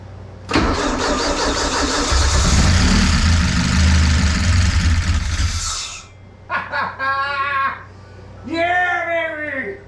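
A 1983 Porsche 944 that has sat unused for 15 years cranks and catches, then roars loudly for several seconds before cutting off, and excited voices follow.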